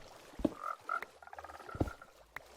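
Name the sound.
frogs croaking in video game Minecraft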